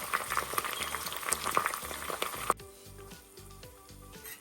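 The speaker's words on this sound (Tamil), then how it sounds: "இந்த இலை வந்து நல்லா சத்தம் அடங்குற வரைக்கும் இந்த எண்ணெயில் வந்து அந்த இலை" Curry leaves frying in hot oil for homemade hair oil, a dense crackling sizzle with sharp pops that drops abruptly to a quieter, thinner bubbling partway through, close and alone.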